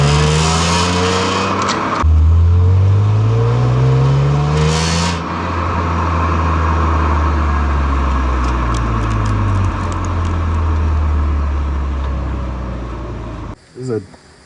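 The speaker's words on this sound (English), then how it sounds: "This is a BMW E46 M3, 2004 model." A 2004 BMW E46 M3 engine revs up and down repeatedly, loud and close, with rising and falling pitch sweeps before cutting off near the end.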